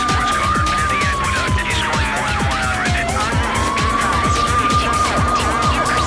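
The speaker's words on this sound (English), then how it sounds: "if you're driving a police vehicle, you can turn on the siren when you're ready to pursue a racer" A police car siren wails in the PC racing game Need for Speed III: Hot Pursuit, its tone sliding down and back up over loud, steady engine roar and repeated tire squeals.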